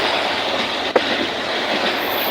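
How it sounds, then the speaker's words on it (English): The Rangpur Express passenger train runs on rails on the way to Dhaka, a steady loud rumble and rushing roar heard from inside the carriage, with one brief sharp knock midway. "I am going to Dhaka by train."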